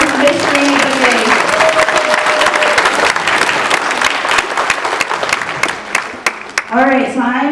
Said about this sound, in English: let's give it one last round of applause for Miss Jaymie Begaye